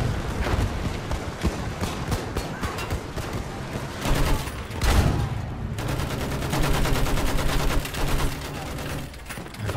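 Online Battlefield 1 gameplay fills with heavy gunfire: dense bursts of automatic fire mixed with booming blasts, loud and nearly continuous.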